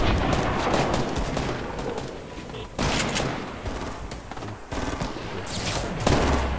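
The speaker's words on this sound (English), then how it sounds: "I hear shooting, but no people yet." Video game gunfire crackles in dense, overlapping bursts across the whole stretch, with sharper volleys near the middle and end, heard at a moderate distance without voices.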